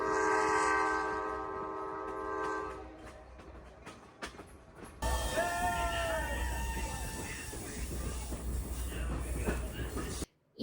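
A passenger train in the Blue Ridge Mountains in the United States sounds a loud, sustained horn, then a dense, steady rumble of the moving cabin takes over, with scattered clicks and squeaks from inside.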